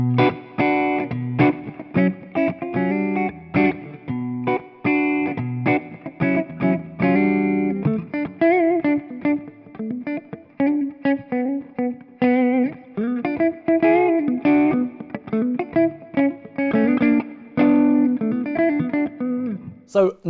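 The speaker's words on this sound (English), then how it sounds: "Put a bit more reverb on there so you can hear what that sounds like." Electric guitar played through a Vox Night Train 15H G2 valve head with P90 pickups and added reverb, loud continuous chords and riffs with a ringing tail, no talking.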